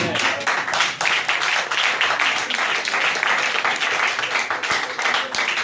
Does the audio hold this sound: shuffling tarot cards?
no